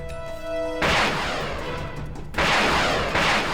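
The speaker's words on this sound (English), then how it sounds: "Egyptian Sagar operators to fire volleys of missiles with a fairly good hit rate" Egyptian Sagger anti-tank missiles fire in volleys at charging Israeli tanks in the Sinai. A steady tonal hum gives way to two loud, close blasts with a roaring, whooshing tail, one after another.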